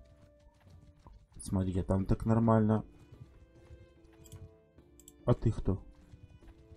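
Horses gallop in the medieval combat game Mount & Blade II: Bannerlord, with a steady clip-clop of hooves running underneath someone talking in bursts.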